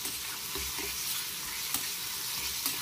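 A spoon stirs rugda mushroom curry in a pan over a soft sizzle, with a few sharp scraping knocks against the pan and otherwise an even, quiet frying hiss.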